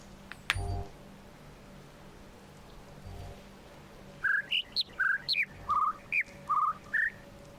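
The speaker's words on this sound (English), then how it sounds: "I'm losing my mind over bird sounds." Songbirds in the video game The Witness give a run of short, bright chirps and whistled notes in quick succession. A soft thump and faint patter come first, then the calls ring out clearly over a quiet background.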